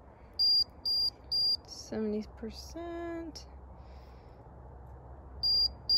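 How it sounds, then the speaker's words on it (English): A pet tracking device gives short high electronic beeps three times, pauses while a person speaks briefly, then beeps twice more, over a faint background hiss. "My direction is beeping 3 times, so I know I'm close."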